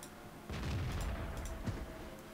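A shell impact in the World of Tanks video game, a sudden loud low boom that sets off a dense rumbling burst, with a second smaller thud shortly after.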